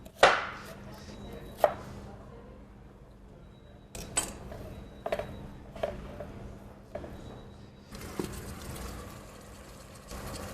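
A knife chopping an onion on a cutting board in a home kitchen, a handful of separate sharp chops spaced irregularly over quiet background hum, with no talking.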